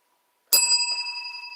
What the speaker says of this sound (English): That's a pleasant little ting.